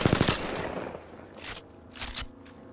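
Apex Legends gunfire: a rapid automatic burst up front, then two more separate volleys of shots spaced about half a second apart, crisp and close against a low game backdrop.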